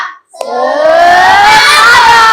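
A classroom of standing children claps hands together in a dense, steady patter, mixed with bright, sustained young voices calling out over the clapping.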